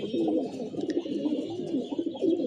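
Female pigeons in a loft coo continuously in low, throaty rolling phrases, several birds close by overlapping with no pause, a faint high chirp briefly cutting through.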